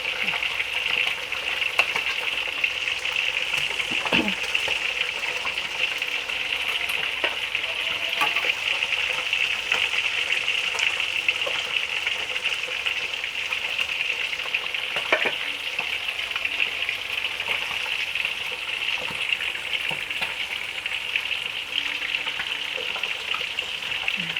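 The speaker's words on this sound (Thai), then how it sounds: "กำลังทอดเลยค่ะ" Tilapia and catfish frying in hot oil, a loud, steady hiss of bubbling oil with occasional faint clinks, continuous and close throughout.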